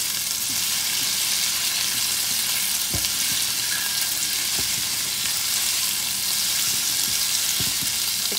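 Shrimp sizzles steadily while frying in a pan for shrimp Alfredo pasta, a continuous close crackle with a few soft knocks of a utensil and no voices.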